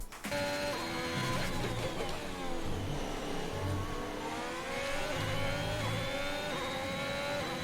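A Formula 1 car from F1 2021 laps Imola, its high-revving engine whining loud and close, rising and falling through gear changes and corners, with no voices over it.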